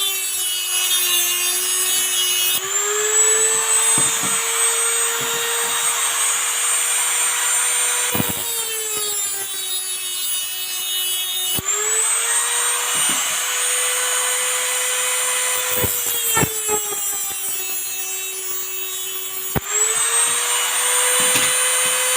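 Power tool cutting metal bolts down to length, a loud continuous whine that rises and dips in pitch across several cuts, with brief clanks between them.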